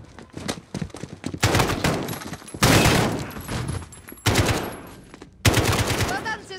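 Bursts of automatic gunfire from Call of Duty: Modern Warfare, loud and close, arriving in several dense volleys with short gaps between them and a few brighter metallic pings near the end.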